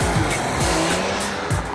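A Porsche 911 GT3 brakes hard from high speed on a track, its tires squealing loudly and steadily over the engine roar, with short sharper squeals at the start and near the end.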